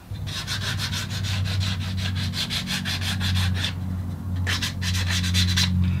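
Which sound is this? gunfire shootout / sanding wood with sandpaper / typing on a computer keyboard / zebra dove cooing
sanding wood with sandpaper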